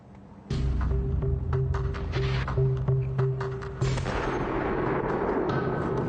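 A Barrett rifle fires on an outdoor range: heavy, booming shots in quick succession, each with a ringing tail and a lingering echo, loud and close with no talk.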